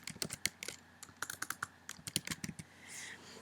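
Fingers type a name on a computer keyboard in quick, uneven bursts of close, crisp key clicks, then a short pause near the end.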